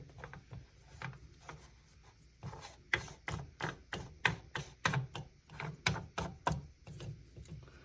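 A nut under a bathroom sink pop-up drain is tightened, making a close run of rhythmic ratcheting clicks that start sparse and become a steady, quick series.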